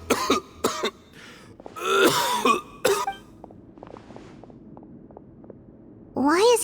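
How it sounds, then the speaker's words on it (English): A Genshin Impact character coughs in several harsh, close bursts, the first few fast and clustered, then a pause and one more rough cough at the end. "Why is he coughing so much?"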